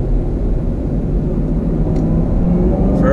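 A 2019 Chevrolet Camaro ZL1 1LE accelerates in first gear with a loud, steady, deep engine roar from inside the car. It holds a continuous low drone without pause.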